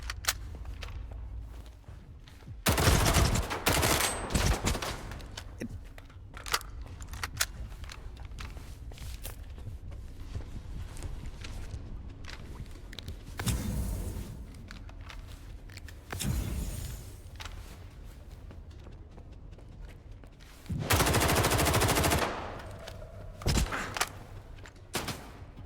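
A 5.45 rifle firing in S.T.A.L.K.E.R. 2, a damaged and jam-prone gun, heard as several loud bursts of gunfire separated by quieter stretches of in-game ambience and movement.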